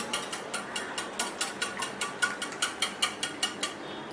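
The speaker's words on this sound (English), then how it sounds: "I'm going to whisk my eggs, make them nice and fluffy" Eggs being whisked by hand until fluffy for a cake batter, a steady run of quick, crisp clicking taps of whisk against bowl, about four per second, close and moderately loud with no talk.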